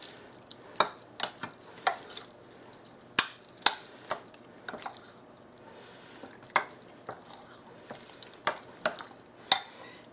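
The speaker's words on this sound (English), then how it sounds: "I'm going to stir all this together" A spoon stirs pork chops and rice together in a pot, making quiet, irregular clicks and soft scrapes against the metal over a faint background hiss, near and with no voices.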